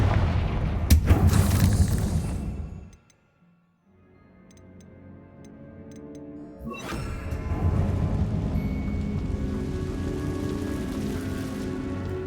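A Confringo blasting spell from the Hogwarts Legacy video game goes off as a sharp boom, followed by a loud, broad rumbling roar that trails away and then swells again, with no voices.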